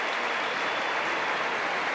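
Crowd applause in an indoor arena during a women's volleyball final, dense steady clapping from many spectators filling the whole stretch with no pauses.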